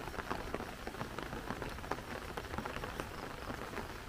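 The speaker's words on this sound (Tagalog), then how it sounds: "Ay, ang lakas ng ulan." Heavy rain falls during a typhoon on a rural farm, a dense continuous patter of drops beating on surfaces with no voices.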